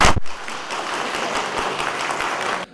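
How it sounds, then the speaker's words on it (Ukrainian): Dense, loud applause erupts in a city council session room, a continuous wash of many hands clapping that holds steady until it cuts off abruptly. "І одразу зриває шалені оплески."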